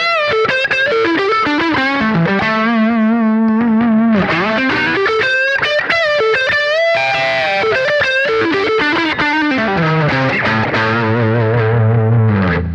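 Electric guitar run through a Power Burst distortion pedal, playing a thick, driven melodic riff with sustained bent notes and chords, loud and close, no talking.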